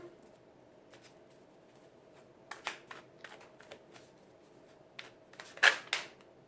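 A deck of tarot cards being cut and shuffled, giving soft riffling and several crisp snaps of cards that come in short bursts near the mic, with the loudest flurry at the end and no talk.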